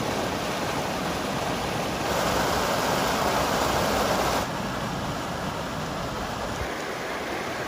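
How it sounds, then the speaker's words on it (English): Water gushes hard and steadily from a pipe at a hatchery pond that has just been opened for a coho salmon smolt release, a dense roar that swells louder for a few seconds midway. "There's a lot more volume coming out of that pipe now that the pond's been opened up."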